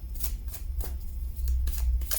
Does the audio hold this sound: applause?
no